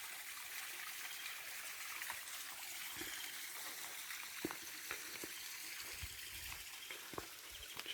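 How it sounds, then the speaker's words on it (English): A small brook runs steadily beside a morning nature trail near Miliou village in Cyprus, its continuous hiss of flowing water dotted with a few faint taps and footsteps. "Listen to the running water."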